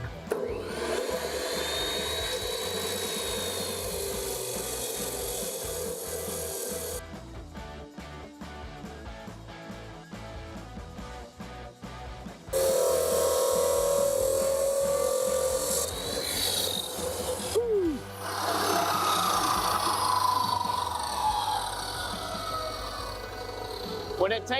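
An abrasive disc grinds through metal, a loud, steady harsh rasp that keeps cutting for long stretches, broken by a short change in tone partway through, with no clear talking over it.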